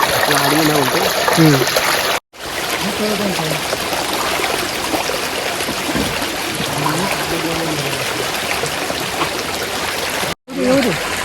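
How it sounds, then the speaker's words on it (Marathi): Water runs along a small channel in a field ditch set up for catching fish and prawns, a steady near rush and trickle with people talking over it and two brief dropouts. "हा पाणी चालला इकडे ह्या साईडला"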